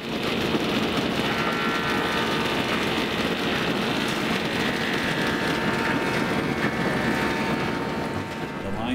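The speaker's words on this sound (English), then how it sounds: "There's some turning being done behind me right now." Wood-turning machinery runs steadily in a woodworking mill, its line shaft driven by a 15 horsepower electric motor on three-phase power, giving a constant loud mechanical whir and rumble that holds for the whole stretch.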